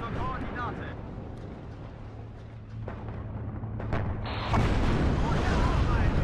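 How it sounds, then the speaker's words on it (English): Artillery shells exploding in a modern tank battle game with Leopard tanks against defending Russian forces, a deep rumbling blast building near the end under steady talk and low battle noise. "That artillery is hitting my supply directly."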